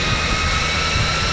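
Cooling fans on a 2021 Harley-Davidson Low Rider S motorcycle spinning up like a turbine, a steady loud whooshing roar of rushing air, close and continuous with no talking.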